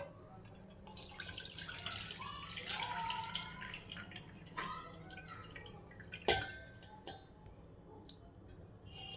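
Water is drained off rice in a pan during washing for a pea and paneer pulao, a quiet trickling pour with small splashes and a few sharp clinks against the vessel.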